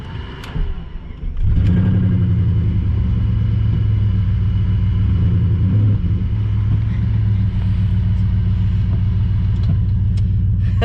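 BMW 7 Series with a cut side-exit exhaust starts and settles into a loud, deep, steady rumbling idle that continues close by for the rest of the stretch.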